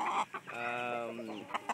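Young Kelso gamefowl cluck and peep close by, giving a short run of clucks and one longer drawn-out call in a quiet setting.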